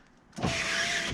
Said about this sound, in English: you can hear that the switch clicks